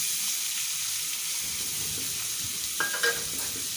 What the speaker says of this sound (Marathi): कांदा थोडा परतून घ्यायचा आपल्याला आधी।